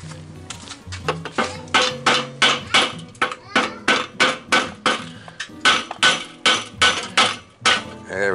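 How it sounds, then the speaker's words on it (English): Loud, rhythmic metallic hammer taps striking a Weber kettle grill part, a steady series of sharp clanking blows repeated many times in close succession. "we're going to need to hammer, tap down on it."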